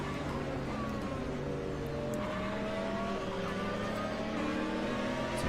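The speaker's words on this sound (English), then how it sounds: "I can hear the opponent cars louder than my own." Race car engines from AI opponents in the sim racing game Automobilista 2, a dense steady drone of several engines with harmonic whine throughout, fairly loud and continuous.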